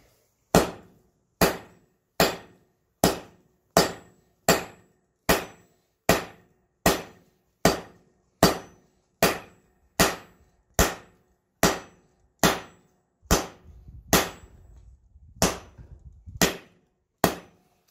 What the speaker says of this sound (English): I'm using my almost like just over 4, almost 5 pound hammer here, because this is some hard stuff to move